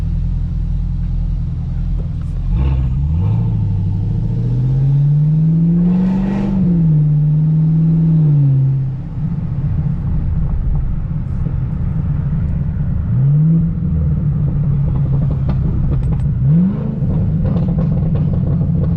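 A Camaro ZL1 or Cadillac CT5-V Blackwing engine revs up loudly nearby on Dallas streets, rising and holding, then drops and revs again in shorter bursts over a constant low rumble.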